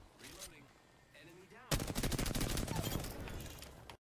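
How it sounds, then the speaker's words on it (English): Rapid video-game gunfire erupts midway and keeps going as a dense, loud burst of automatic shots, after a quieter stretch with faint voices. "bullets come past my face"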